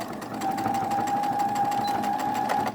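A sewing machine stitching the three fabric layers of a washable face mask runs in one steady, close, even whir for a few seconds, with no talk.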